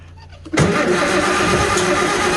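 A tractor engine on full choke cranks briefly and then catches, settling into a loud, steady running rumble close by.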